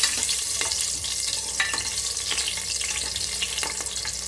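Slit green chilies drop into hot oil for biryani and fry with a continuous, fairly loud crackling sizzle, marked by occasional sharper pops and stirring clicks. No one speaks.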